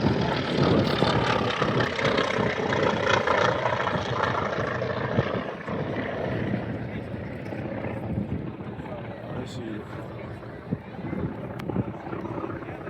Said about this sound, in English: flying high cover are a pair of T-28s